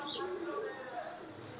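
A pet pigeon kept by a hobbyist coos in a few soft, low, rounded calls, fairly close, partly under men's conversation.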